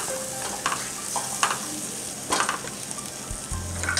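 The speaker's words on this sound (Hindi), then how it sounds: "और इस मसाले को अच्छी तरह से सिकने देते हैं थोड़ी देर।" Chole masala spices roast and sizzle steadily in a pan with occasional scraping stirs, close and alone with no talking.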